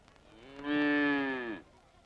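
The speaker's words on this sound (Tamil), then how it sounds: "மாடு வேணா நல்லா தான் இருக்குது" A single cow moos once in a scene from a Tamil feature film: a loud, sustained, tonal low of about one second, rising in the middle and fading, with quiet background before and after and no talking.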